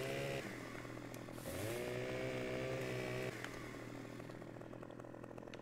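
A chainsaw in a video game buzzes close and loud throughout, revving up in pitch around the middle and then settling back to a steady running drone.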